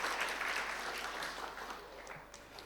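Applause from an audience welcoming a speaker at a Deepavali pattimandram comedy debate, a steady broadband clapping wash that stays fairly faint throughout.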